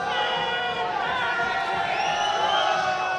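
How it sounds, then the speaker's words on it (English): College basketball crowd at a men's game, California at Mercyhurst, cheering loudly during free throws: sustained roaring, whoops and shrill shouts from many voices filling the arena throughout. "Now, loudest this crowd's been so far for any free throws."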